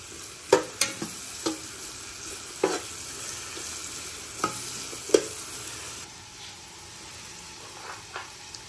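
Chopped onions sautéing in a pan with browned garlic, a soft steady sizzle under several sharp clacks and scrapes of a utensil stirring, with no talking.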